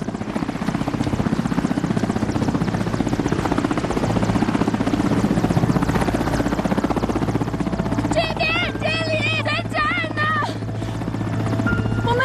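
Military helicopter preparing to land for a rescue in a snowy high-altitude setting, its loud steady rotor and engine drone filling the whole stretch, with a voice cutting in briefly near the end.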